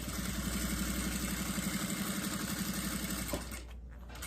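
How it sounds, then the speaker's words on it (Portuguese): A domestic sewing machine stitches a folded fabric seam for a diaper holder right along the edge, a steady rapid mechanical whirr running for about three seconds before stopping, close and alone. "vou dobrar dessa forma aqui e vou passar uma costura aqui, fechando bem na beiradinha mesmo"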